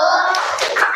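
Children clap and chant together in a classroom icebreaker, the clapping chant "tepuk anak soleha"; a short burst of hand claps with young voices over it.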